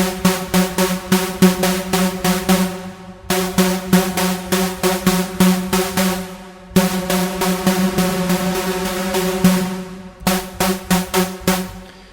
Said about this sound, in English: we are doing a big room kind of EDM sound